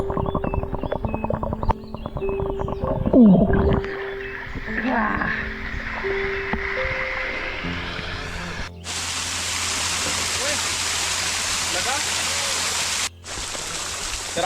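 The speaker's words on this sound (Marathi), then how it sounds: "इकडे आई मंडळी आहेत धबधब्याचा आनंद घेत आहेत" Rushing water pours steadily, a broad continuous roar of the Ashoka waterfall at Vihigaon that fills the second half, with voices and splashing earlier on.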